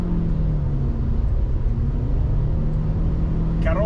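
An Omoda S5 with a 1.5 turbo engine accelerates hard, a steady close engine drone with low rumble inside the cabin and no clear break for the simulated gear shifts.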